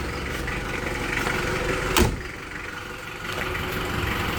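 A 2002 Mitsubishi Kuda diesel engine runs nearby with a steady clattering rumble, lifting briefly under a short rev while a sharp click or knock cuts in around the middle.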